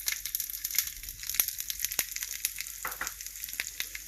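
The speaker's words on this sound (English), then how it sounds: "So I'm going to add in 1 teaspoon of ghee to the pan. To that I'm going to add in cumin seeds" Cumin seeds crackle and sizzle in a teaspoon of hot ghee in a pan for a tarka, a steady close frying hiss broken by sharp pops with no voices.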